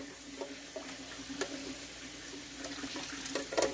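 Water is poured into a birria pot, a steady soft hiss and trickle with faint bubbling and sizzle, close and fairly quiet, with small clinks throughout and no speech.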